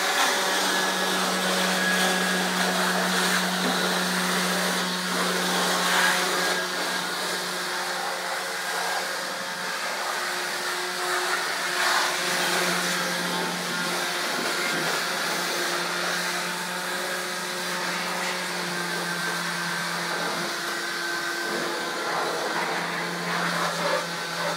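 A Black and Decker vacuum cleaner blows dust out of a computer with a continuous, steady whine and airy rush, holding at a constant pitch with slight wavers and no talk.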